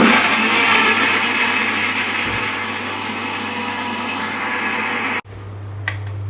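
A kitchen mixer grinder whirs steadily as it blends onion into a paste, a loud continuous motor drone that cuts off abruptly near the end, leaving brief quiet.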